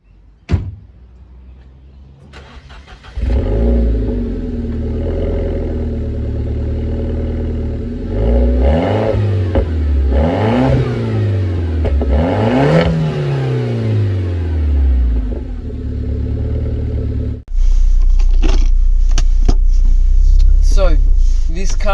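A Renault Clio RS 200 with a 1.6 turbo engine and automatic gearbox pulls away and drives, its engine note rising and falling through several revs, loud and close with cabin rumble throughout.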